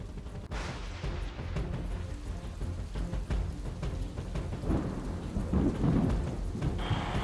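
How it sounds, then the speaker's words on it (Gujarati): Heavy rain pours steadily over waterlogged Maninagar streets in Ahmedabad, a constant loud wash of drops, with a sharp crack of thunder near the start followed by low rumbling. "શહેરમાં વહેલી સવારથી સતત છે વરસાદ"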